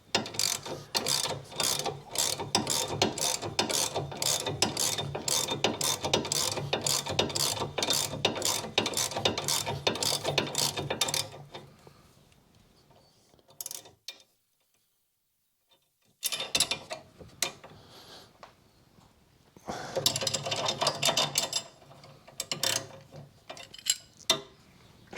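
A ratchet tightens the anti-roll bar drop link nut on a 2014 Mazda CX-5 2.2 diesel, with rapid, even clicking for about eleven seconds, a pause, then further bursts of close, loud ratcheting.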